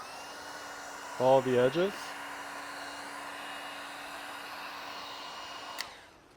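A heat gun blows steadily throughout while vinyl wrap is post-heated on the fender of a Tesla Model 3 Highland; a short spoken phrase sits over the constant hiss near the start.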